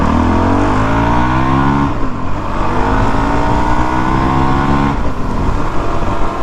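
Supermoto motorcycle pulling away from a green light, engine revving up through rising pitch, dropping at a gear change near two seconds and again near five, loud and close throughout with no talk.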